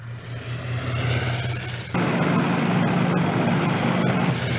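An aircraft takes off in the Commandos 2 video game, a loud steady propeller-engine drone that swells abruptly midway and holds at full roar.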